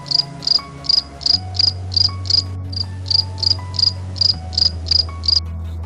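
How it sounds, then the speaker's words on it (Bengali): Crickets chirp in a dense forest at night in a steady, evenly spaced rhythm of high pulsed trills, close and clear over a low continuous hum, with no voices. "বামের ঘন জঙ্গল থেকে ঝিঝি পোকার শব্দে একটা অদ্ভুত সুর যেন"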